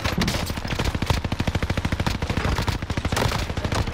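Automatic gunfire in the video game Warzone, a loud, sustained burst of rapid, evenly spaced shots rattling on for several seconds with no talking.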